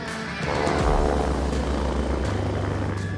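Loud, steady rotor drone of a helicopter passing close overhead, a continuous heavy thrum that swells slightly and holds.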